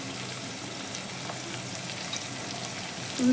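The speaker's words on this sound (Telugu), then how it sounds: "మనకు ఉల్లిపాయలు వేగడానికి కాస్త సమయం పడుతుంది" Onions frying in a pan for a tomato and drumstick curry give a steady, even sizzle that holds at a moderate level throughout, with no talking.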